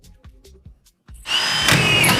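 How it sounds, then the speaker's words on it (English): A power drill drives a screw into drywall during a bathroom renovation, a brief whirring run starting after about a second of quiet clicks and handling noise, close and fairly loud. "I've got 2 hands, so I grab the drill,"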